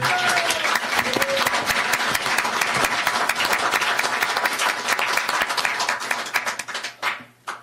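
Dense, loud applause fills the room from a large audience at an international forum on strengthening Indo-Pacific alliances, steady and sustained before tapering off unevenly at the end.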